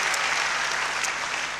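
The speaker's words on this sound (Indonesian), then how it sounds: "Beri tepuk tangan bagi Tuhan." A church congregation applauds in a thick, continuous wash of clapping that stays loud and even, then eases slightly at the end.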